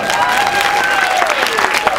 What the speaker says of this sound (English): can we have real applause for Roger and Nina?